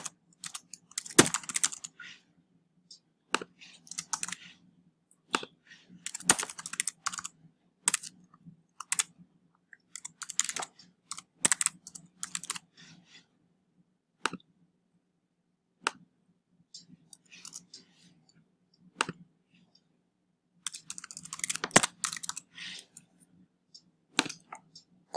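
Typing an email address and password on a computer keyboard, heard as bursts of crisp key clicks with short pauses between them, close and clear over an otherwise quiet background.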